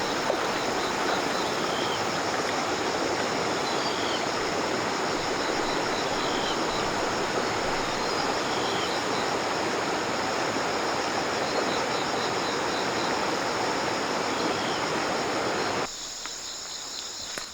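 A flowing stream rushes in a steady broad wash, with insects chirring high above it throughout, before the water sound suddenly drops away near the end.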